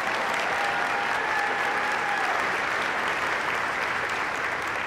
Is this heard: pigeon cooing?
no